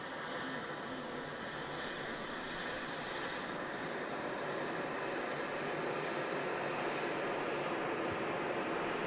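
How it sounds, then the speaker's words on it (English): A TUI Boeing 787 Dreamliner arriving from Mahon at Manchester Airport flies past, its engines a sustained, fairly distant roar that swells gently and stays steady throughout, with no voices. "our final arrival for today's show, just about to fly past Matty, is the TUI Dreamliner in from Mahon"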